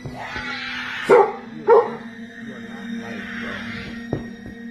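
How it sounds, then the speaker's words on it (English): A dog barks twice in quick succession, slightly muffled and at middle distance, over a steady low electrical hum, with a faint click near the end. "Why is the dog barking?"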